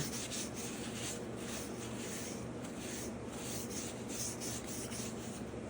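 A clay cone is rubbed down by hand, a steady, even abrasive rasping with a faint back-and-forth rhythm, close and quiet, with no voices.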